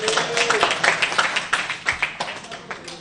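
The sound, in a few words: applause in the house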